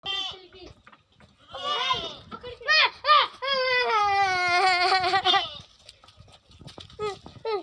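Goats on a farm bleat loudly and close by, a run of several wavering, cry-like calls in quick succession that fills the middle of the stretch, with people talking quietly before and after.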